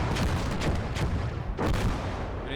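Dense, rumbling artillery fire and explosions in the war game Call to Arms: Gates of Hell, with repeated booms and crackling blasts overlapping in a loud, continuous battlefield barrage.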